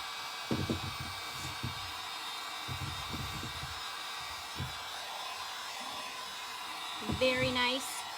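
A hair dryer runs steadily to dry paint on the rim of a pot, a constant whirring hum throughout, with a person's voice speaking briefly over it.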